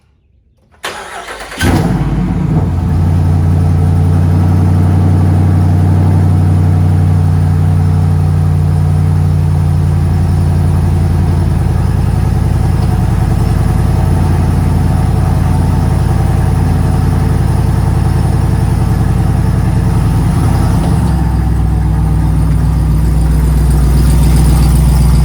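Jeep Wrangler JL Rubicon 392 V8 starting up after a brief silence, then settling into a loud, steady low engine drone that holds for over twenty seconds with a slight shift in pitch near the end.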